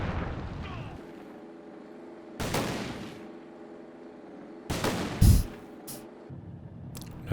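A tank's main gun fires in Company of Heroes 2, booming cannon shots that arrive as a few separate loud blasts, each followed by a long rumbling decay, with quieter battlefield noise between them.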